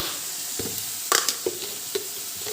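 Pumpkin frying in a pan for a pumpkin and soybean curry, a low steady sizzle broken by a few soft stirring scrapes and clicks, close and fairly quiet with no talking.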